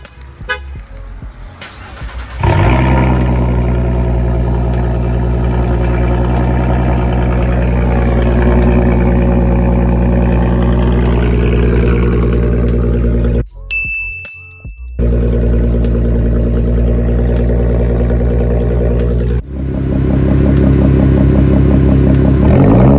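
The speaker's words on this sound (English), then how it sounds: "Let's cut through all the exhaust clips, starting with the cold start." A Ford Mustang with a 3.7L V6, X-pipe and muffler delete cold-starts with a cranking burst, then settles into a loud, raspy high idle that cuts out briefly and picks up again.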